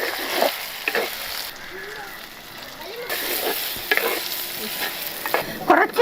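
A ground spice paste goes into a pan of stingray fish curry with tamarind, giving a steady sizzle and crackle broken by spoon scrapes and clinks, with no voices.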